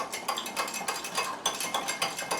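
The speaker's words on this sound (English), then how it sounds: "whisk this up again a little bit" Milk chocolate mousse mixture whisked briskly in a bowl, a steady run of quick, close metallic clinks and scrapes with a regular rhythm.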